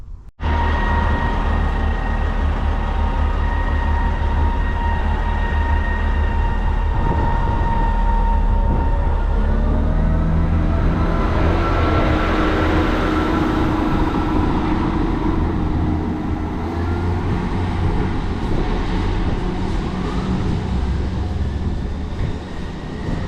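A diesel multiple unit train, unit 58738, in poor running condition, rumbles loudly nearby at Markinch station, its engine droning with a rough tone as it pulls away and the sound slowly swells and fades.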